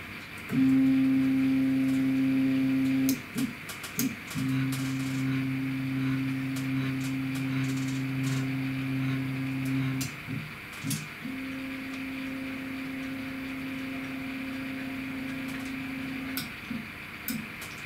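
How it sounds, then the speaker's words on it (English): CNC machine homing under Mach 3 control, its stepper motors whining in long steady tones that stop and restart three times, with small clicks between moves, fairly quiet and without talk. "so now we will home our machine"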